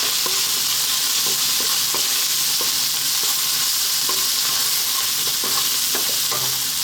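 Chili powder, turmeric and salt stirred in a hot pan, a steady close sizzle of frying with repeated light scrapes of a spoon across the pan bottom at an irregular rhythm.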